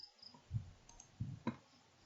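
Computer mouse clicks, three or four soft, sharp clicks spaced irregularly across a quiet moment, close and faint.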